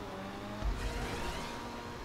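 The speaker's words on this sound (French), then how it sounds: "Écoutez le bruit du moteur, les gars." The engine of a 300R car in a parkour racing video game held at top speed: a loud, steady high-revving drone with a brief bump midway, no speech.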